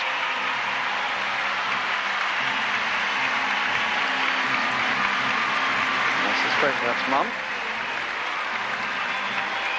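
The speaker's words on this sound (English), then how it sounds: "Big applause." A crowd applauds the men's vault bronze medal winner, Australian Samuel Offord, at the 2006 Commonwealth Games gymnastics medal ceremony. The clapping is a steady, even roar throughout, with a commentator talking over it.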